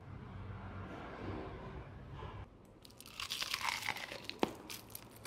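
Someone bites into crispy fried chicken from a Filipino combo meal, a cluster of close, crackly crunches coming in the last half, after a stretch of low room noise.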